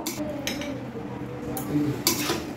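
A Bengali-style banana flower and prawn curry (mocha chingri ghonto) is moved from a cooking pot into a serving bowl: a few sharp metallic clinks and scrapes of utensil against cookware, close by, spaced over a few seconds.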